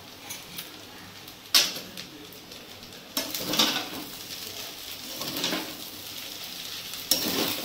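Chowmein being stirred in a pan with Maggi masala seasoning, a soft sizzle under sharp intermittent scrapes and clatters of a spatula against the pan.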